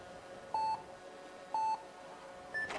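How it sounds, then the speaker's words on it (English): Speed climbing start signal at a World Cup final in Villars, three short electronic beeps spaced about a second apart, the last one higher and longer, clear over a quiet hall. "Waiting for the buzzer."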